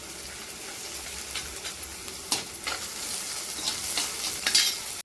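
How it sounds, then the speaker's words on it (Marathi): Okra tossed into hot tempering oil with fried chillies for a Maharashtrian bhendi bhaji, a steady bright sizzle broken by several scraping stirs, close and moderately loud, no voices. "आपण सगळी भेंडी याच्यामध्ये टाकून घ्यायची फोडणीमध्ये आणि याला छान असं परतून घ्यायचे"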